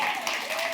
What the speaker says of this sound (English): Some claps here.